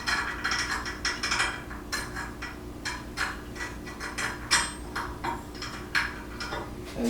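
A bolt is tightened on an Evolution MCS mitering chop saw stand with PowerLift assist, giving a quick run of close, crisp ratcheting clicks and metallic mechanism rattles in an uneven rhythm.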